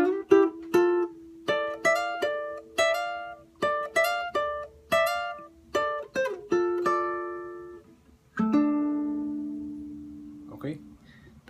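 Acoustic guitar plays a phrase from an Ecuadorian albazo, a run of bright plucked notes in a lilting rhythm ending on a sustained low note, close and clear with no voice over it.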